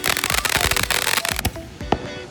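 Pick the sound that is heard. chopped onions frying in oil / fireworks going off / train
fireworks going off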